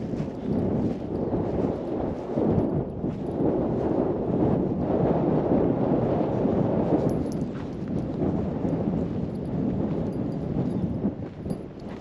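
Steady wind buffeting the microphone on Pendle Hill, a continuous low roar and rumble that swells and eases slightly throughout, with no voices.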